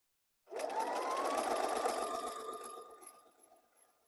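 A sewing machine top-stitches a flannel baby blanket in one steady, continuous whirring run of about two and a half seconds that slows and fades at the end, close and alone.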